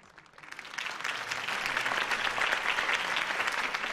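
A crowd applauds steadily in the video game Batman: The Telltale Series, the clapping swelling in over the first second and then holding as a dense, loud wash of hands.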